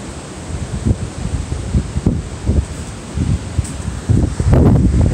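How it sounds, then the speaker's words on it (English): Strong wind buffets the microphone outdoors beside a Suzuki Marauder motorcycle, a loud, steady roar with repeated low gusting thumps that swell louder toward the end. "Oh, this wind is horrible."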